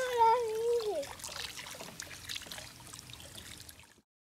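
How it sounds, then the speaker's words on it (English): A hose blaster toy sprays water at a fourth birthday gathering, making a steady, close trickling stream that fades out after about four seconds, with a brief high voice at the start. "I've got a hose blaster from the United States."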